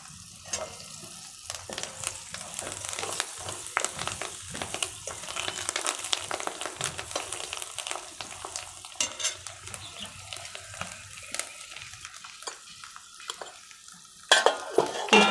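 Oil tempering (phodni) with coriander leaves for a drumstick (shevga) vegetable curry sizzles steadily in a pan while a spoon stirs and scrapes, with occasional metal clinks and a louder clatter near the end.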